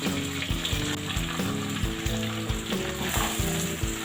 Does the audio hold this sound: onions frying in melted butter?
yes